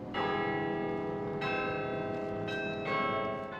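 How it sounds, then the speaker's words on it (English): Carillon bells in Ottawa chime in a slow sequence of resonant strikes, each ringing tone lingering and overlapping the next, heard at a moderate distance with no talk. "The carillon will still chime each day, at least until 2022, when the bells go silent to be restored."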